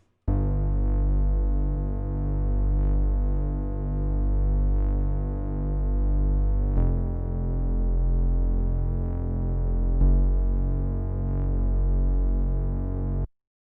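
Moog Minitaur analog synth bass run through Sausage Fattener distortion and a Wider stereo plugin plays a sustained, buzzy, overtone-rich bass line with a few note changes, loud and upfront with no voices.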